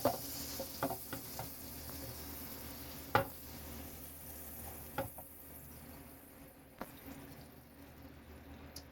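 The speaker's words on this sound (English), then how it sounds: "slice a little bit of butter, put it in the pan" A slice of butter melts in a pancake pan with a soft, quiet sizzle, broken by a few sharp clicks and taps near the start and a lone tap later.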